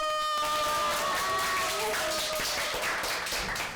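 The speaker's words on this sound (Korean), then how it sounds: "지금 박수로 출발하겠습니다" Studio audience applause and some cheering opening a Korean political talk show, clapping rising under fading music and continuing steadily to the end.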